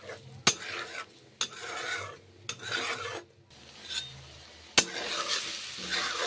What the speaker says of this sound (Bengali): সর্ষের তেল গরম করে 5 ফোড়নগুলো ভেজে নিচ্ছি